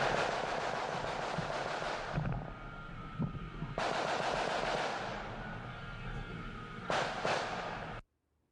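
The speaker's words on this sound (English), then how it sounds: "that is the sound of semi-automatic gunfire" Semi-automatic gunfire goes off in bursts of rapid, sharp cracks with fast echoes, heard from a distance on an outdoor street and cutting off abruptly at the end.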